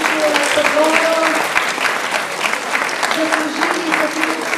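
Loud, dense applause from an audience for primary school pupils at a youth awards event, steady clapping throughout with some crowd voices mixed in.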